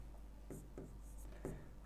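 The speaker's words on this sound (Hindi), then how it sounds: "इसको मैं लिख दे रहा हूँ" Chalk or marker scratching out numbers on a board while a teacher works a ratio and proportion problem, a few short strokes in quick succession against faint room hum, with no talking.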